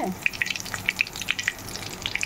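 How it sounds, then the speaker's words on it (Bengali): Cumin seeds and bay leaf dropped into hot oil for tempering, giving brief crackling pops and sizzles scattered across a couple of seconds, close and moderately loud with no voices. "এখানে আমি জিরা তেজপাতাটা এবার ফোড়ন দিয়ে নিচ্ছি।"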